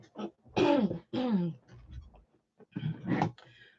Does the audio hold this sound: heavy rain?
no